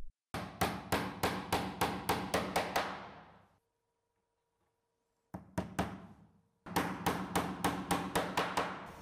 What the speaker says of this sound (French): la planche inférieure est fixée à la première planche de base avec de la colle et 2 clous